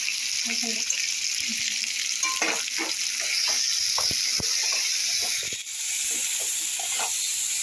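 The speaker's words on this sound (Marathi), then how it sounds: "त्या मसाल्यामध्ये हे दोडके जरा मिक्स करायचं, परतायचं चांगलं छानपैकी" Ridge gourd (dodka) being stirred and fried in a spice masala, giving a steady broadband sizzle throughout with scattered soft scraping and stirring clicks close by, no talking.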